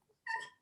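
A dog gives a single short, high whimpering yip, faint and brief, over a quiet indoor background.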